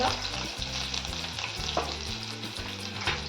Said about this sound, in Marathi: त्यानंतर टाकणार लसूण लसूण लाल झालं आहे नंतर जिरे कढीपत्ता मिरच्या हिंग